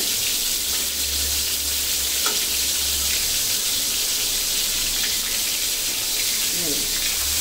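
Loitta fish (Bombay duck) sizzles steadily in oil in a kadai, a dense continuous hiss close to the pan, with a few faint clinks as the fish is turned.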